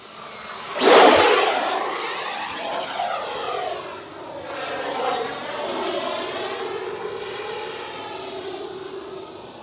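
FMS Avanti S 90mm EDF RC jet making a fast pass, its ducted-fan whoosh surging loudly then fading into a rising and falling whine as it turns at a distance.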